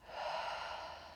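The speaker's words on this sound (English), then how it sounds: "inhale, gentle rising, exhale out the mouth" A single slow, steady exhale through the mouth during a gentle seated chair yoga breathing exercise, a soft continuous breathy rush lasting about a second, close and fairly quiet.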